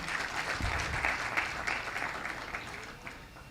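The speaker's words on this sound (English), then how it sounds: "A round of applause for her." Audience applause at a leadership summit, a sustained round of clapping from a seated crowd that swells early and then gradually thins and fades toward the end.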